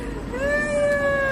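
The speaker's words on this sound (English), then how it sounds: "What the fuck is this cat?" A cat gives one drawn-out, loud meow close by, rising slightly and holding a clear tone over low background noise.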